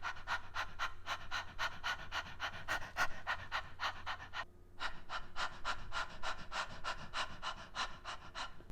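A recorder player pants rapidly through the open mouth, imitating a panting dog as a breathing exercise. The quick, even breaths come close and clear, with one brief pause partway through.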